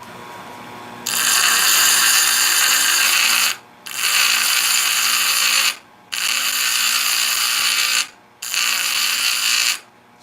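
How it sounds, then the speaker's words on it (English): A Stihl USG chainsaw-chain grinder dresses a grooved grinding wheel, giving a loud, harsh, high grinding whine in four sustained passes of a few seconds each, with short dips between them as the dressing tool lifts off. "I'm going to dress up this wheel first because it's got a little bit of a groove in there"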